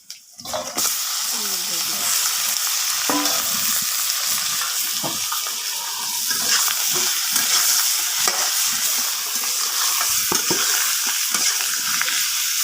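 Rohu fish pieces coated in turmeric and chili powder frying in a pan, with a loud, busy sizzle and crackle and the repeated scraping of a stirring utensil. Voices talk briefly in the background.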